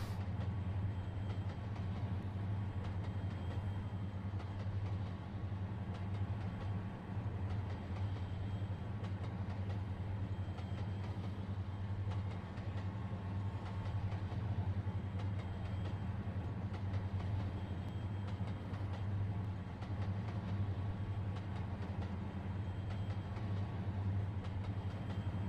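Steady rumble of a Northern Pacific train rolling along the rails of Lookout Pass in the Trainz railway simulator, a continuous low drone with faint clatter that holds even from start to finish, with no voices.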